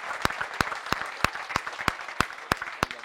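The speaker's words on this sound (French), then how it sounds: "je voudrais qu'on applaudisse bien fort cet homme-là" Crowd applause at a kickboxing event weigh-in, a steady wash of clapping with a sharp, rhythmic clap or thump landing roughly every third of a second, loud and close.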